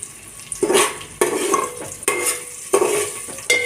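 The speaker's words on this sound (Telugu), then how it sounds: "ఆనియన్, జాజికాయ, జాపత్తి అది మొత్తం మంచిగా ఫ్రై కావాలి" Onion, nutmeg and mace sizzle in hot oil for biryani, with a steady close frying hiss broken by regular scrapes and clanks of a spoon stirring the pan.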